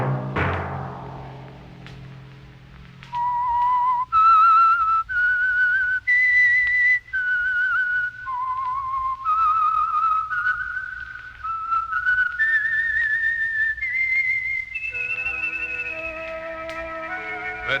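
A person whistles a slow, wandering tune, clear held notes stepping up and down in pitch, alone with a faint low hum underneath.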